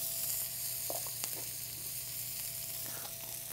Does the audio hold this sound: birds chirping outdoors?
no